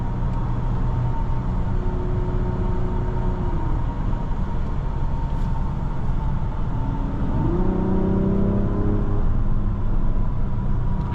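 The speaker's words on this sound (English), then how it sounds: "Can't get enough of that engine noise." A 2024 Mazda CX-90 3.3 Turbo S SUV driving, its engine giving a steady, loud droning hum inside the cabin with rising tones as it accelerates and shifts, continuous road noise underneath.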